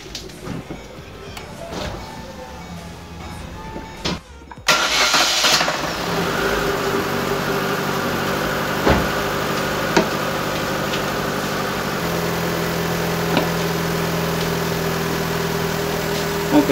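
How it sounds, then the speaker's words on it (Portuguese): After a radiator coolant change, a car's engine cranks and catches abruptly, then settles into a steady, loud idle that runs on for over ten seconds with no talking. "Vamos ligar o carro."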